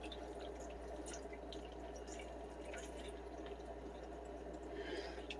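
Marinade trickling and dripping onto strips of beef jerky in a container, a steady low wet pour that runs without a break and stays fairly quiet, with no talking.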